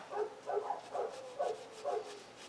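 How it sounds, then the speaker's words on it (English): Dogs bark in a quick series of about five short, muffled woofs spaced evenly apart, heard at a distance and fairly faint, with no one speaking over them. "I'm sorry about those dogs making all that racket"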